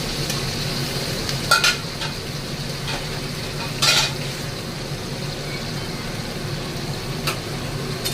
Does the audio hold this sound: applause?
no